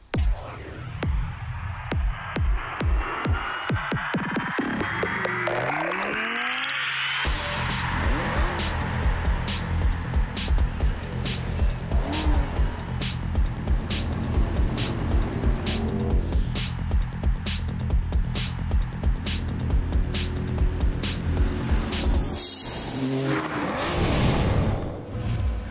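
A Toyota Corolla drives hard, its engine revving through rising and falling sweeps, with a whooshing pass and tyre squeal amid a dense, loud, sustained roar that never drops away.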